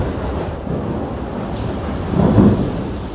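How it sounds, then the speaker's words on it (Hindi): Thunder rumbles through steady heavy rain, a broad continuous wash with a low rolling swell near the end, no voices. "बारिश हो रही है, बिजली कड़क रही है"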